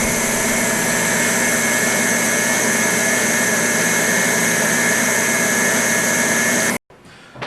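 An electric mixer beats cookie dough with a steady loud motorized whir holding constant for several seconds before cutting off abruptly, followed by brief faint handling noise.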